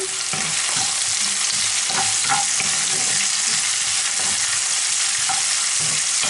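Strips of pork loin and peppers frying in a pan, a bright steady sizzle with repeated stirring scrapes and clacks, close-up and without talking.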